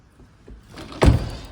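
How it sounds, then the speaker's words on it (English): Ford Focus RS Mountune door swinging shut with a single solid thunk after a faint approach, close and fairly loud. "which I'll show you as I close the door"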